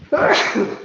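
A single sharp sneeze bursts out close to the microphone amid a day-trading session, with a brief exclamation from the person right after.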